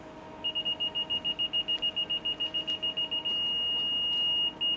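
A laser level receiver on a grade rod at a home extension foundation site beeps in a fast regular series of short high tones, then settles into one steady continuous tone, faint and alone.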